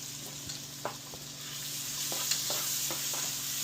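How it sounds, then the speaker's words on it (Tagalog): Onions sauté in a hot pan for pork belly kaldereta, giving a steady close sizzle with a few scattered scrapes and taps of a stirring utensil. "Gisa lang po natin yan. Nakalagay ng sibuyas."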